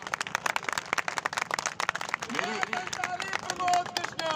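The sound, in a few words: audience clapping at a political rally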